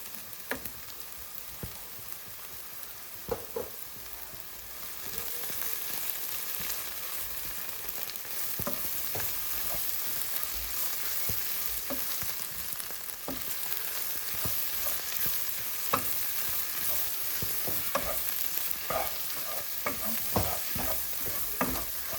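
Fried onions tossed with turmeric, chili powder, garam masala and coriander powder in a pan for an egg puff filling, a constant soft sizzle broken by repeated scraping stirs of a spoon, close and unaccompanied.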